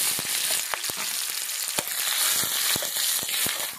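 Onions go into hot oil tempered with cumin, dried chilli and bay leaf, and a loud, dense sizzle results, scattered with sharp popping crackles and spits from start to finish.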